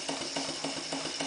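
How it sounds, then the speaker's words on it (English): A Clarkson inverted steam engine, fed by a PMR boiler, ticks over slowly at low steam with a soft, rhythmic chuff-and-hiss beat that repeats about three times a second under a constant steam hiss. "The engine ticking over quite nicely"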